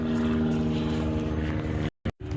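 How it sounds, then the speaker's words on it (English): Loud, steady engine drone of a low-flying airplane passing close overhead in Spokane, Washington, cutting out abruptly near the end. "That plane's literally close enough to hit with a baseball."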